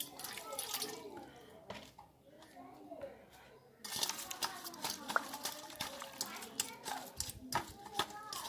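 Basil flowers rinsed in clean water, splashing and trickling with small clinks of a spoon or bowl, close and moderately loud, while someone speaks over it.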